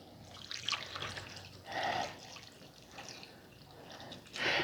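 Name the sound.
chicken broth being poured over lima beans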